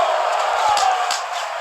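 A crowd in a boxing video game roars steadily after a big haymaker lands, a dense, loud wash of cheering that holds level throughout.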